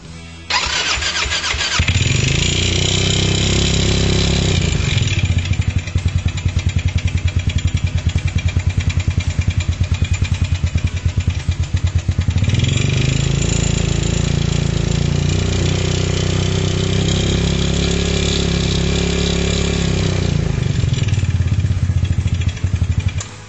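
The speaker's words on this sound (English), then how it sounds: "you're going to want to start the buggy up while it's up on a jack, and let it roll a little bit" A CN250 buggy engine, raised on a jack after a clutch and variator upgrade, cranks and catches, then runs at a loud, steady idle with buzzing revs that swell and settle twice, and no talking.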